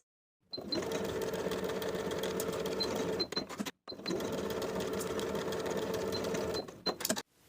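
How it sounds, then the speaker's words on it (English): A sewing machine stitches a seam in two steady, close runs of a few seconds each, with a short pause between them. "Sew with a 5/8 inch seam allowance."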